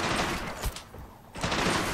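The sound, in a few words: kettle bomb grenade explosion in Men of War: Assault Squad video game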